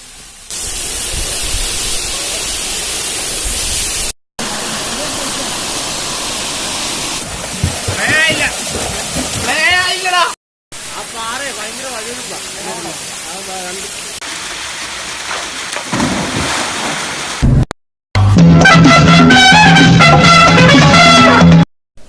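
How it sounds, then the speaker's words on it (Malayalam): Rushing water at Aruvikuzhi waterfall near Kozhencherry, Pathanamthitta: a loud, steady roar of falling water runs through the clip with brief breaks, while people talk over it. "നമ്മളിന്ന് ഒരു മനോഹരമായ ഒരു വെള്ളച്ചാട്ടത്തിന്റെ അടുത്താണ് നിൽക്കുന്നത്."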